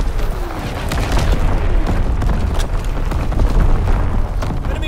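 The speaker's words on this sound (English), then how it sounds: "Enemy mortar fire incoming!" Enemy mortar explosions in the Call of Duty WWII video game, a dense, continuous roar of booming blasts and crackling debris, loud and sustained throughout.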